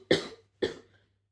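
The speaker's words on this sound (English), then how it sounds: "I warned you about the cough." Two short, sharp coughs from one person close by, about half a second apart, each trailing off quickly into quiet.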